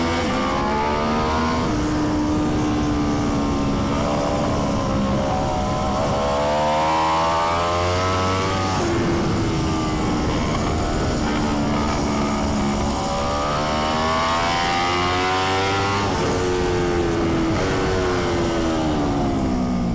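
Aprilia X-GP racing motorcycle at full throttle on a track, its engine screaming loudly in repeated rising sweeps as it winds up through the gears, close and continuous with no voices.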